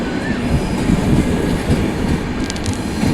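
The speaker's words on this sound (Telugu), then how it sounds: "Humsafar super fast express." A Humsafar Superfast Express train pulls into Karimnagar railway station, giving a loud, steady rumble of wheels and carriages with a faint squeal rising near the end.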